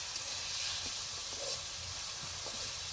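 Scrambled egg fries in a pan until crumbly, giving off a steady, close sizzling hiss that runs evenly throughout, with a few faint clinks and scrapes beneath it.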